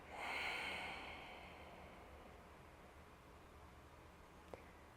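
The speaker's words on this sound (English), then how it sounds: "hold, hold, hold, and then exhale everything out, out, out, out, out" A long, breathy exhale after a held breath in yoga breathwork, strongest at the start and tapering into quiet, soft airy breathing close to the microphone.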